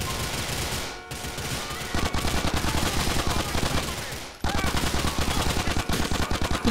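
Rapid gunfire in GTA IV: The Ballad of Gay Tony, dense repeated shots in sustained bursts with two brief pauses, loud and close, alone with no talk.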